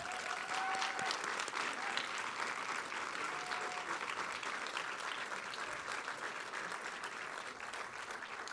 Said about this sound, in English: So if we could please have a round of applause for them.